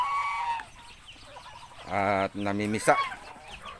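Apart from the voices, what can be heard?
egg-laying ducks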